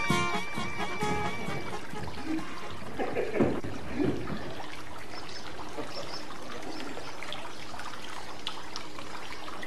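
Water left running and wasted, a steady faint trickle and pour with brief louder splashes early on, continuing softly to the end.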